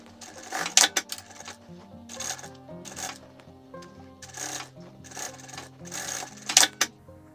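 A sewing machine topstitching a fabric face mask in several short bursts of rapid needle clatter separated by pauses, fairly close and alone.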